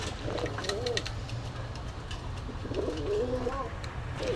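Pigeons offered at a cheap pigeon fair in Gollamari, Khulna, coo in two rolling bursts, close and clear over a busy outdoor background with nearby voices.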